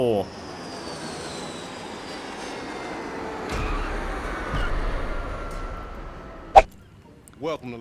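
A FiveM GTA V airplane flies into the city with a sustained engine drone and whooshing wind, swelling midway before a sharp thump and a couple of short clunks near the end.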